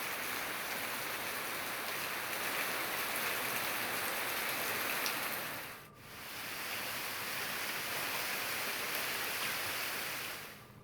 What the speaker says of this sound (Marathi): जिल्ह्याच्या बहुतांश भागामध्ये पावसाची रिपरिप सुरू आहे